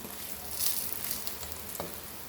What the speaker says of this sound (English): and fry this crispy. Medium flame is better.